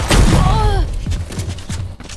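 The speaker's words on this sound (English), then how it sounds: "Swarm grenade out." Killjoy's swarm grenade bursts in a Valorant match, a loud close boom followed by a string of sharp popping thuds. A voice talks over the opening and a descending tone sweeps through.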